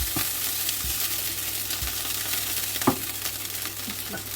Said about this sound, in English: now we're just going to take this meat out, and then we're going to go in with the bacon